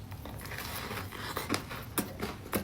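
Close crunchy bites and chewing on a Crumbl raspberry Skittles cookie, with a few distinct crisp bite sounds over soft mouth noise and no talking.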